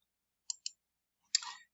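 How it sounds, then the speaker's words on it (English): A print screen key on a computer keyboard gets pressed in a quiet room: two quick, light clicks close together, then a pause and one louder, slightly longer clack. "press print screen on your keyboard,"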